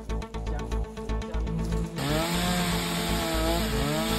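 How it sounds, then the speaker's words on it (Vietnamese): A chainsaw cutting trees in a forest snarls with a rapid, choppy rhythm, then settles into a sustained high whine as it bites steadily, loud and close throughout. "Từ xa đã nghe thấy tiếng cưa máy rít lẫn vào tiếng cây đổ ầm ầm"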